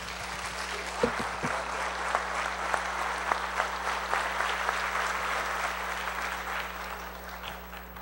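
A church congregation gives a steady round of applause to the Lord, many hands clapping at moderate volume for several seconds over a constant electrical hum, fading slightly toward the end.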